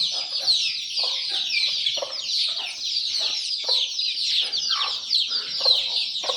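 Country-breed chickens cluck close by in short repeated bursts, over a constant high chorus of peeping chicks.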